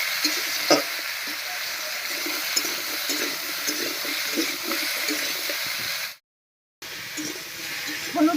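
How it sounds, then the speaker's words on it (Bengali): Taro and potato with dried fish, salt and turmeric frying over a raised flame: a steady, dense sizzle with occasional stirring scrapes, briefly cut by a moment of silence before the sizzle resumes. "উনুনের আঁচটা বাড়িয়ে দিয়ে একটু ভাজা ভাজা করে নেব"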